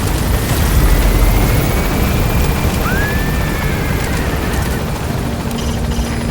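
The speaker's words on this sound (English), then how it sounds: "The chopper's waiting." A helicopter climbing and gaining altitude in Metal Gear Solid V, a loud, continuous rotor and engine roar that fills the scene, with a faint rising whine passing through and no talking.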